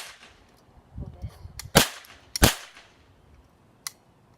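Toy cap gun fired a few times, giving sharp, loud isolated cracks with short gaps between them and a fainter pop at the end, preceded by soft handling clicks in a quiet room.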